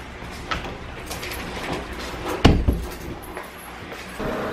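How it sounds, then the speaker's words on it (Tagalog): A door swings shut in a home with one sharp, close thud and a brief rattle of the frame, followed by quiet room noise. "Sara natin yung pinto."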